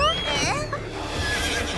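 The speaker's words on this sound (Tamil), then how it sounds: "அவர் அந்த குதிரையை ரிமோட்ல ஆபரேட் பண்றாரு" A remote-controlled toy horse gives a loud, close neigh with a wavering whinny that trails off over a couple of seconds, with a voice faintly mixed in.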